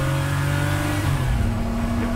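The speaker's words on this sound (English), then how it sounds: "You get the roar from the normally aspirated engine in the Zonda." Pagani Zonda with a naturally aspirated engine roaring loudly on the Goodwood track, a sustained close engine note with steady harmonic tones that shift pitch midway, with no talking.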